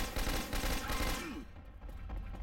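Rapid overlapping gunfire in the zombie shooter game Left 4 Dead 2, a dense burst of loud shots that thins out after about a second and a half.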